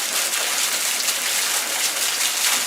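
Heavy rain pours down in a steady, dense hiss, a loud continuous downpour with no pauses and no voices.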